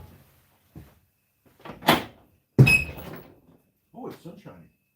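A household door opens in a workshop setting, with several brief knocks and clatters spread across a few seconds; a voice speaks amid the sounds, which stay moderately loud and close.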